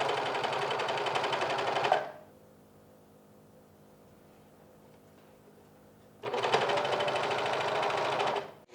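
Sewing machine stitching a rib knit collar onto a t-shirt, two loud close bursts of rapid whirring separated by a quiet pause of about four seconds.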